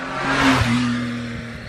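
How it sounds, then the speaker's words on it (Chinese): A car engine hums and swells as the vehicle passes close by, then fades away, a single smooth pass. "汽车行驶声"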